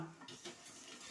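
A lid set onto a pot of chicken and potato curry, a short metallic clink and clatter of pan and cookware near the mic, with faint sizzling from the cooking behind it and no one talking.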